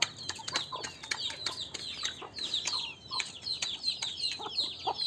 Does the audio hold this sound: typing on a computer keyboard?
no